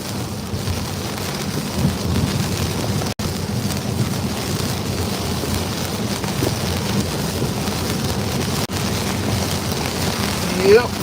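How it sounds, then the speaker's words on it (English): Steady rain, heard while driving in a car near Melbourne Beach, forms a dense continuous hiss with a low rumble underneath that could be distant thunder; no voice is heard during it. "As you can see, I'm just dealing with some rain."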